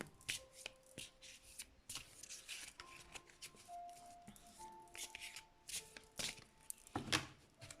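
A deck of oracle cards is shuffled by hand in a quiet room: soft, repeated riffling and slapping bursts at a close but faint level, with no voices.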